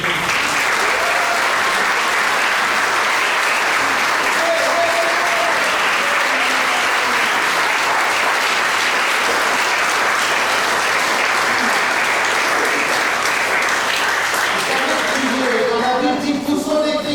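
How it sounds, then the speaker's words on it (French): A church congregation at a thanksgiving service applauds loudly and continuously, dense clapping filling the hall throughout, with a voice speaking underneath and the applause thinning near the end. "Est-ce qu'on peut applaudir notre Seigneur Jésus?"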